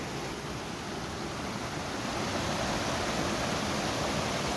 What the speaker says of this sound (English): I love those little waterfalls